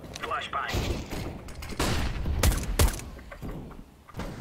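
Rapid bursts of gunfire in Counter-Strike: Global Offensive crack repeatedly over several seconds, loud and close, mixed with game noise while someone talks in Hindi.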